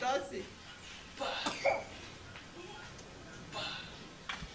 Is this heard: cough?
yes